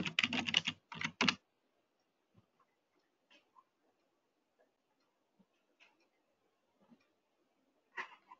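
A user ID and password being typed on a computer keyboard: two quick bursts of close key clicks, then scattered faint single taps and a final short flurry, with no voices.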